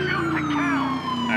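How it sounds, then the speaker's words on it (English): Police siren from an FBI Ford F-350 Super Duty in GTA 5 LSPDFR, a continuous loud wailing tone held close throughout the brief moment. "Let's get our sirens back on here."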